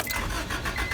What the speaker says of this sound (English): gonna give the car a start